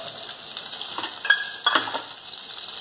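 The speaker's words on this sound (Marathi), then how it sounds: "आणि शेंगदाणे टाकून आपण थोडंसं परतून घेऊयात" Peanuts sizzle steadily in hot oil in a pan while rava upma is being prepared, with a couple of soft scraping stirs and light clinks of a spoon against the pan over the continuous frying hiss.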